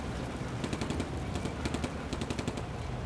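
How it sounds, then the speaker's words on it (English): Bursts of machine-gun and rifle fire from the Combat Mission: Afrika Korps wargame, rapid rattling volleys repeating in clusters over a steady low battlefield rumble, moderately distant with no talk. "You can still hear gunfire."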